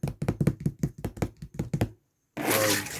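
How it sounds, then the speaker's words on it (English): Quick, close taps on a hard object in a rapid run of about fourteen knocks, then a pause before a broader rushing noise takes over. "Maybe tapping something,"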